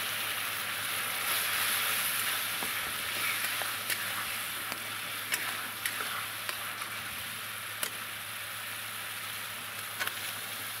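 Green chillies and red chilli powder fry in a pan for stuffed pointed gourd (potol dorma), giving a steady, even sizzle with small crackles throughout and no one talking.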